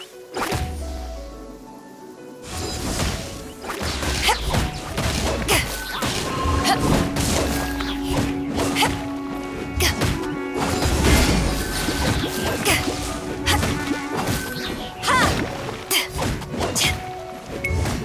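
Genshin Impact combat against Dendro slimes, with a dense run of smashing hits, thuds and whooshing swings over layered game effects, steady and busy throughout, with no clear talk.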